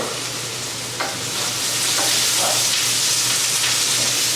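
Brussels sprouts seasoned with coarse black pepper stirred and sizzling in a hot pan, a steady loud frying hiss with a few clattering scrapes as they are tossed, no voices.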